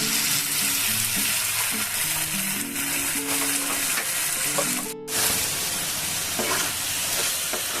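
Soya chunks fry in a pan with tomato sauce and soy sauce, producing a loud, steady sizzle with scraping stirs and a brief break partway through.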